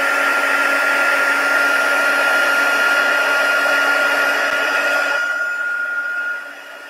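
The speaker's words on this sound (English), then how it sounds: "I'm just going to heat emboss this." Heat embossing tool blowing hot air over a watercolour daisy card, a loud steady whooshing hum that runs continuously and then drops off in the final moment.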